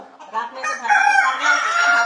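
Desi country chickens on a poultry farm cluck and call in a quick, close run of squawking notes that grows louder, with no other sound around them.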